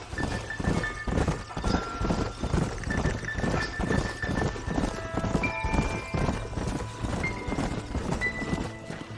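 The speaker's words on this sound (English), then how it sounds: "Leave the horses here and follow me." Horses gallop in a Red Dead Redemption scene, a dense run of hoof clip-clop with a few whinnies over low rumbling score, steady and close throughout; someone says a couple of words briefly.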